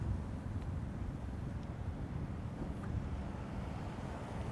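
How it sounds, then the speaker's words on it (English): Steady outdoor wind rushes and buffets against the microphone throughout, a continuous low roar with no pauses and no talking. "there's wind over here"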